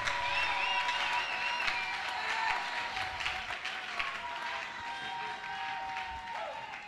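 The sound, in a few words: congregation acclaiming and applauding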